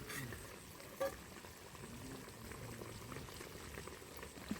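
Fish curry gravy boils in a pot, bubbling steadily and softly at close range with no talking.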